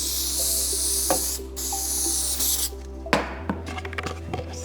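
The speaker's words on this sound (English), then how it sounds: "I'm just gonna spray this." A spray can hisses in short bursts during a woodworking build of a taper jig, a close, bright steady spray with gaps, against a low hum and a few light knocks at the end.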